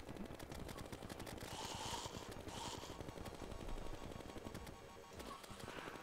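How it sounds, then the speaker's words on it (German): Rapid automatic gunfire from the Megashark weapon in the video game Terraria, a dense, continuous rattle of shots running steadily throughout at a loud, even level. "schießt halt einfach doch mit der Minigun rum"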